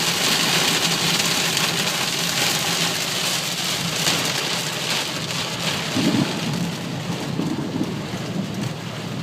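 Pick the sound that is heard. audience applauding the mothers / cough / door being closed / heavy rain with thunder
heavy rain with thunder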